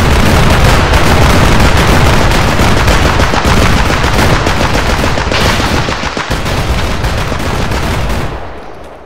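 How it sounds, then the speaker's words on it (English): Massive gunfight in the Escape from Tarkov video game: dense, sustained machine-gun and rifle fire with overlapping bursts, loud and continuous for about eight seconds before dropping away abruptly. "I'm hearing like a massive gunfight pop off behind my building"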